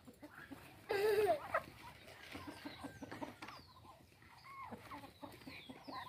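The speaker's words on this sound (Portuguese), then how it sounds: "Tá dando comida para as galinhas?" Chickens cluck and a rooster-like call rises briefly while corn is tossed to them in a yard, with soft scattered bird sounds and faint background voices at moderate distance.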